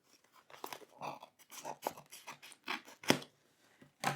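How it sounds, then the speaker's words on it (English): Scissors snipping through a yarn label, a run of quiet, close crisp cuts and crunches in uneven rhythm, alone with no talk. "grab a pair of scissors"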